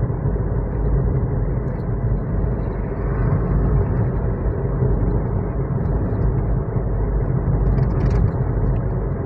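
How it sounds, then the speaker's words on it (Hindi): A car cruising at sixty in fifth gear, a steady loud interior drone and road rumble that holds constant without a break, with no voices. "सिक्सटी की स्पीड चल रही है मेरी कार, फिफ्थ गियर पड़ा हुआ है।"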